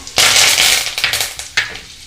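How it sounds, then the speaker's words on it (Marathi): Cumin seeds and curry leaves hit hot oil with a loud, bright sizzle, crackling and popping in quick bursts, then a fresh surge of spitting as more leaves drop in, close and alone without voices. "तेल गरम झालेले तर अर्धा चम्मच जिरा घालूया, त्यानंतर कढीपत्ता"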